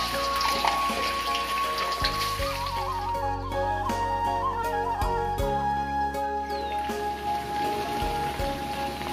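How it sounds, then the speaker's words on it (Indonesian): Chicken pieces fry in a pan for chicken rica-rica, a steady crackling sizzle running throughout, heard close under a background of music. "Pertama-tama saya akan menggoreng daging ayamnya terlebih dahulu ya, sebelum kita beri bumbu rica-rica"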